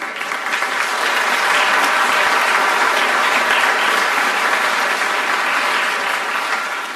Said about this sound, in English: lead us in a big round of applause